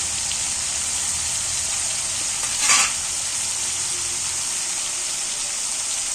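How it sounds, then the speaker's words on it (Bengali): Chicken pieces for a spicy curry frying in oil, producing a dense, continuous close sizzle with one brief louder hiss partway through and no talking. "তেলের মধ্যে মাংসটা শুধুই ভাজা ভাজা হয়ে যাচ্ছে"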